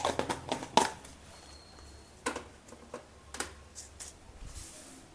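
Mustard and cumin seeds splutter in hot oil while tempering a bitter gourd gojju, giving sporadic sharp crackles and pops in quick clusters, close by, with a quiet gap in the middle.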